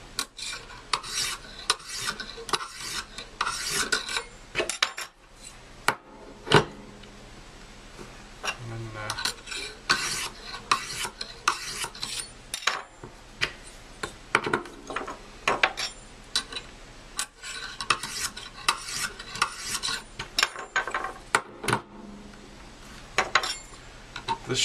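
A knife is drawn over a sharpening kit's stone in repeated rasping strokes, an irregular scraping rhythm with light metallic clinks, close and moderately quiet.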